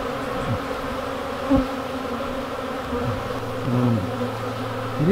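Honeybees hum in a dense, close buzz inside the hive around the queen, with individual wingbeat tones rising and falling over a constant drone.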